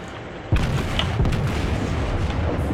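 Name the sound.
enemy ship artillery firing in World of Warships video game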